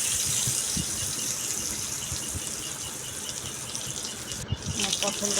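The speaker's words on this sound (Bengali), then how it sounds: "তো দেখো, এখানে আমি পটলগুলো ভেজে নিচ্ছি।" Pointed gourds (potol) frying in a pan, a steady hiss and crackle of hot oil running throughout, with faint spatters and small clinks near the end.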